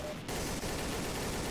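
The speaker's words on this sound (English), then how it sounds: "The recoil on this gun is ridiculous." Rapid automatic gunfire in the video game Codename CURE, a continuous dense burst of shots at moderate level after a brief pause at the start, with no talking over it.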